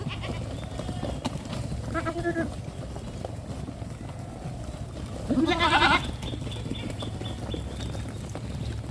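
On a goat farm in Assam, goats give two bleats a few seconds apart, the second louder and closer, over a low steady background with voices talking.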